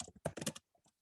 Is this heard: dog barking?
no